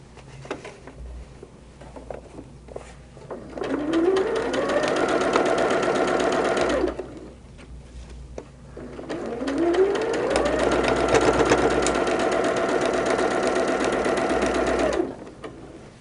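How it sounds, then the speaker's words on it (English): A sewing machine stitches a quilt block for a barn star sampler quilt in two long steady runs, each a few seconds of fast, even mechanical whirring with quiet pauses between, close and loud with no talking. "We could sew right here."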